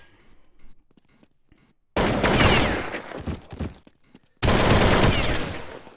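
Automatic rifle fire in a Counter-Strike-style shooter match, with two long, loud sprays of rapid shots, plus short beeps and scattered clicks in between.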